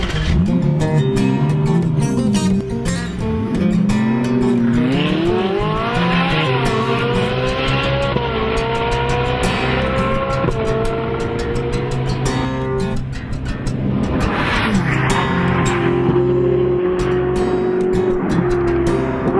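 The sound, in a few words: Ferrari 458 Italia driving on mountain roads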